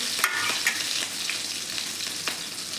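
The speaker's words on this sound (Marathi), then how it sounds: "तर सर्वात आधी मोहरी जिरे आता हे हिरवी मिरची पण टाकून घेतली व्यवस्थित फोडणी देऊन घेते" Mustard seeds, cumin and green chilli tempering in hot oil, a close, steady sizzle with quick popping crackles and light stirring taps.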